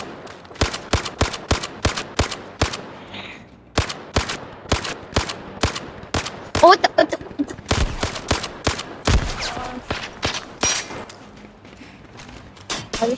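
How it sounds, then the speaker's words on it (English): Rapid bursts of gunfire from the video game Zero Caliber, a PvP match, with dense repeated shots and volleys running through the whole stretch, loud and close, with brief gaps between strings of rounds. "I just fired like two magazines in them."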